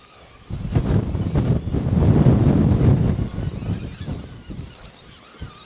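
Strong wind gusts across a fell, battering a drone, in rough, swelling bursts of buffeting noise that build and then ease, close to the microphone, with no speech.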